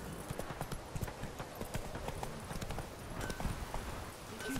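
In a video game, a horse gallops with a fast, steady run of clip-clopping hoofbeats that carries on through the whole stretch.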